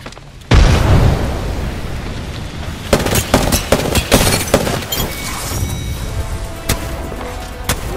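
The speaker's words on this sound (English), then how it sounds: "Throwing frag." A frag grenade goes off in the Apex Legends battle royale, a heavy close blast followed by scattered gunfire and crackling impacts for several seconds, loud throughout.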